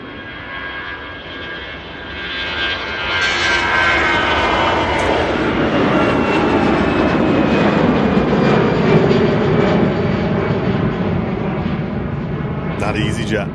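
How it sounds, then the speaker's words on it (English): An EasyJet jet airliner takes off at Manchester Airport, bound for Malaga: a loud, roaring engine rush that swells after a few seconds and holds as a broad, powerful blast. A quieter whistling whine runs through it, with no talk over the noise. "That EasyJet blasting out to Malaga."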